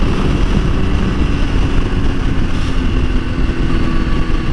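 Motorcycle engine running steadily on a ride in cool weather, a continuous loud low rumble with wind noise and no noticeable revving changes.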